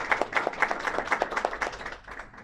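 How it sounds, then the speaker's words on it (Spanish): A small audience at an academic presentation claps briefly and fairly softly, with distinct individual hand claps that taper off toward the end. "Con un aplauso."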